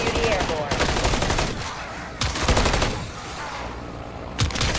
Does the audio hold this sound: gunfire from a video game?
yes